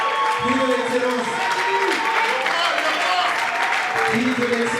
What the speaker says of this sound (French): Sur nos applaudissements, mesdames et messieurs.